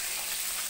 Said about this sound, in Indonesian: Yang goreng iwak